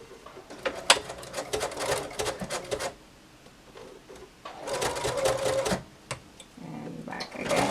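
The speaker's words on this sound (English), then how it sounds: "I will secure the elastic together in here. I will be using a zigzag stitch." A sewing machine runs a zigzag stitch across the elastic on a homemade adjustable face mask, whirring in two steady bursts separated by a short pause, with a brief start at the end.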